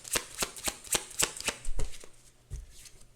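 A deck of tarot cards is shuffled up close, producing a quick run of crisp, rhythmic riffling bursts that slow and soften toward the end, with no talking.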